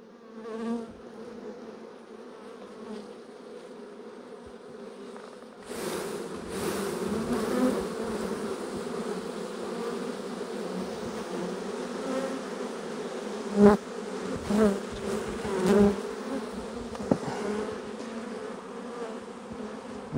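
Honeybees swarm and drone at an open log hive in the peak nectar-flow season, a dense steady buzz that grows fuller and closer midway, with sharper passes of single bees darting near.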